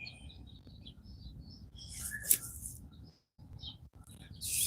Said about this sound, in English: I hear the hungry birds.